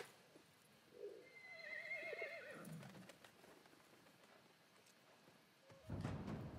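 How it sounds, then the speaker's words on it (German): A horse in Battlefield 1 whinnies loudly in a rising, wavering call, followed by hoof clip-clops and a burst of rustling movement near the end. "Ach ne, es war nur das Pferd."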